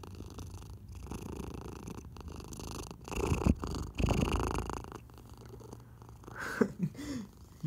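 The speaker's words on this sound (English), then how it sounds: "Listen to her purring." A cat purring close up, a soft continuous rumbling drone with faint rustling and a few louder handling noises, quiet overall and heard alone.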